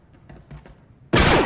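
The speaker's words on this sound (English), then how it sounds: "Move! Open fire!" Loud, sustained burst of gunfire in a Havoc Squad video game mission on Nar Shaddaa, erupting after a second of quieter, faint voice-like sounds and continuing dense and close to the end.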